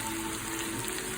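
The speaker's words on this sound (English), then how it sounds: "you hear that sizzle?" Curry-seasoned food sizzles steadily in a pan, a close, continuous hiss and crackle with no talking.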